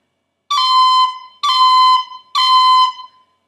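Three separate tin whistle notes, each opening with a quick B cut flick before settling onto a bright sustained tone, sound clearly and alone at an even spacing.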